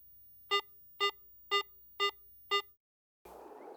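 Five evenly spaced electronic beeps from a Garrett AT Pro metal detector's medium tone in pro mode, mid-pitched and buzzy, followed by a brief silence and then a burst of broadband noise.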